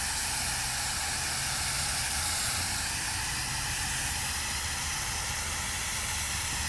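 A steady, continuous hiss of an airbrush spraying paint through a stencil, loud and close, with no pauses for several seconds.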